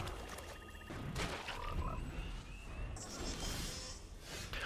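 Digital frog croaking from the card game MTG Arena, crisp croaks mixed with game effects like whooshes and impact hits, layered busy interface sounds without speech.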